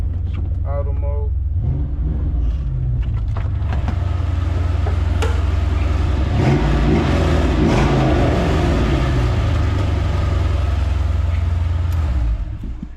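A car engine idles loudly in a garage with a deep, steady rumble. It revs up in rising sweeps twice, and a voice is heard briefly at the start.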